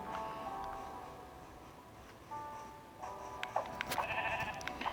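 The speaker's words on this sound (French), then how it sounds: "il y a plein de moutons ici." Minecraft sheep bleat a few times, soft and short, over a quiet background hum.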